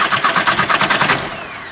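A Volkswagen TDI diesel engine starting after a pump seal repair, the starter's rapid rhythmic cranking catching into an engine idle, loud and close, with no talk.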